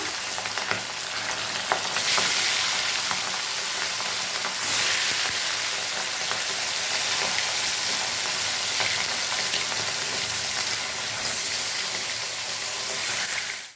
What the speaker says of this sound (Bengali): মাছগুলো আমি বেশি ভাজবো না, হালকা হালকা করে ভাজবো